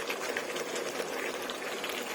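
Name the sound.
escabeche sauce boiling in a pan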